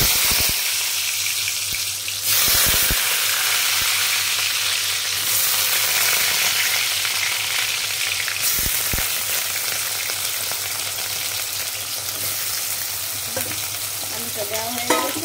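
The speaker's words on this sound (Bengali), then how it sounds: "এখন এটাকে লাল লাল করে ভেজে নেবে।" Potatoes fry in oil in a wok while being stirred, a loud, continuous sizzle broken by scraping knocks of the spatula and a few sharp clanks against the pan.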